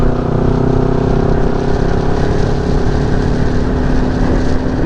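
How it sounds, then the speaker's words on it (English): Several motorcycles cruising along Foothills Parkway make a continuous loud engine drone with a steady rumble and tonal whine throughout, no voices. "Did you notice it's nothing but motorcycles?"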